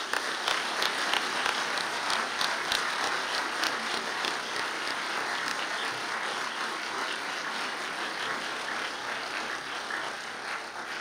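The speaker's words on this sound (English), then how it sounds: "Please join me in thanking Dr. Jones with another round of applause." Sustained applause from a large audience, steady and dense clapping throughout with no talking over it.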